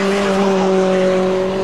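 Lotus Elise Trophy race cars at Brands Hatch GP circuit in a loud, sustained engine drone with steady tonal whine, cars running close together up the hill.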